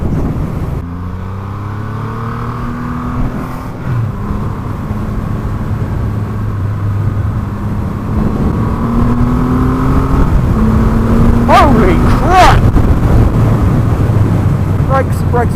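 Triumph Rocket 3 R 2500cc motorcycle engine pulling through the gears, a loud, deep drone that climbs in pitch as it accelerates, with wind noise and a brief higher whine near the end.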